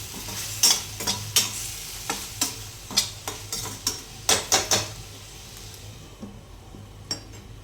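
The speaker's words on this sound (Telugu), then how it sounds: "ఆయిల్ వేసేసి కొద్దిగా అల్లం వెల్లుల్లి పేస్ట్ ఇందులో వేసేసి సిమ్లో పెట్టేసి ఫ్రై చేసేద్దాం ఈ చికెన్" Chicken fries in oil with ginger garlic paste over low heat, with a repeated clatter of a spoon stirring against the pan over a soft background sizzle.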